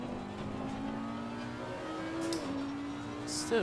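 An Audi R8 race car in an online racing game hums along at steady revs with a faint engine tone and a shift near the end, under a quiet spoken word.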